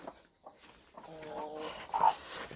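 A broody hen among chicks gives a short burst of harsh, scolding squawks and clucks, close but fairly faint, between quiet pauses and low handling noises.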